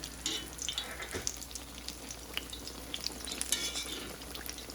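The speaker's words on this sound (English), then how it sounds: "Okay, so now we're gonna flip here." Apple fritters frying in oil on medium heat, a quiet steady sizzle with a few soft clinks and taps as they are turned, faint and close.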